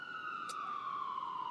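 An emergency vehicle siren passes at a distance, its steady tone gliding slowly downward in pitch as it moves away, with no talk over it.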